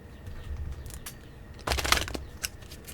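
Tarot cards are shuffled up close, a quick riffling burst of papery flicks followed by a few scattered taps and slides.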